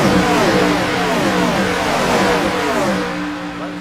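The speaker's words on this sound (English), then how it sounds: "listen to these cars here tonight, Blake." Gen 4 stock race cars at Chicagoland in an iRacing game roar steadily at full throttle, a loud, dense engine drone with rising and falling pitch as a pack passes.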